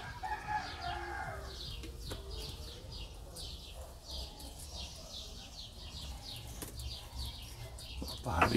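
Roosters crow from a distance in a rural yard, repeated calls rising over a constant chorus of chirping small birds and faint background noise.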